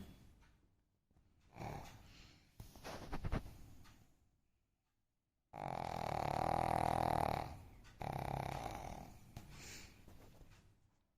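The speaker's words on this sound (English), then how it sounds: "Snoring." A sleeping animal snores in slow, heavy rasping breaths, several long snorts separated by brief silences, close and fairly loud.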